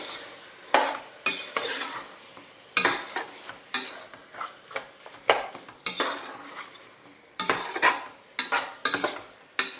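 Whole spices including black cardamom are stirred in a pot for chicken biryani, with repeated sharp metal spoon scrapes and clinks against the pot over a faint sizzle, loud and close.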